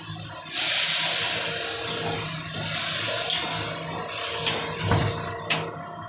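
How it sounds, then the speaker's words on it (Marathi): Water is poured into a cooking pot of bhindi curry, giving a sudden loud hissing rush that then settles into a softer steady flow with a few clinks and knocks. "आता मी याच्यात पाणी टाकते"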